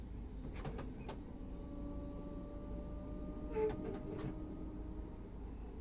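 Simulated Glasgow suburban S-Bahn train on the slow Cathcart Circle line in Train Sim World 2 rolls along with a steady low rumble, with a few light clicks and rattles over the top.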